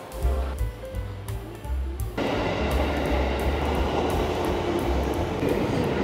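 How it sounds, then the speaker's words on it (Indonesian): A CC206 diesel locomotive rumbles nearby with a low, steady engine drone that swells into a louder, broadband roar partway through, continuing without pause. "Nah, ini dia lokomotif kita,"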